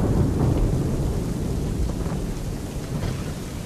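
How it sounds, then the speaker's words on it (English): Heavy thunder rumbles over steady rain during a storm at sea in Assassin's Creed 3, a dense, loud wash of low rolling booms and hiss with no talking. "I'd say it's high time we find some cover from this storm"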